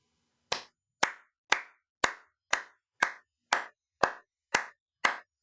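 Ten slow, deliberate hand claps from a single nearby person, each crisp and evenly spaced about half a second apart with silence between, as a salute to Edmonton Oilers star Connor McDavid.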